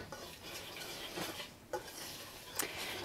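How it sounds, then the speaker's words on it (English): A spoon stirs and scrapes through a mix of paprika, salt and pepper in a bowl, with soft repeated gritty scraping and light clinks close up, no talking. "And then I have a tablespoon of paprika, a tablespoon of salt, and a tablespoon of pepper. I'm going to mix that all together."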